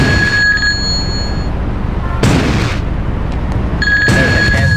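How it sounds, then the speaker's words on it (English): Rocket launcher in GTA 2 fires and detonates in two loud broadband bursts a couple of seconds apart, each a sharp blast with a short decaying boom, over a steady hum with thin tonal game sounds. "Rocket launcher."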